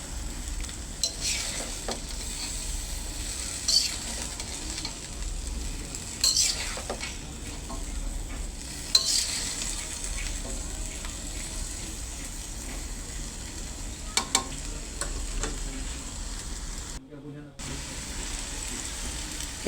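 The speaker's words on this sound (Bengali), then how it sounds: "এবার সুন্দরভাবে নেড়ে দিব" Winter vegetables fry in a pan while a utensil stirs them, giving a steady sizzle with scattered scraping and clinking and a brief lid-like thud near the end.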